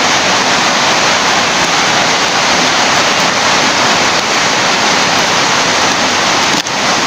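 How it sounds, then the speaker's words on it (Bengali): Heavy rain pours down outdoors in a dense, loud, unbroken hiss that fills the whole stretch, with no voices over it. "বাইরে প্রচণ্ড বৃষ্টি হচ্ছে, যার কারণে লাউড একটু নয়েজ হতে পারে"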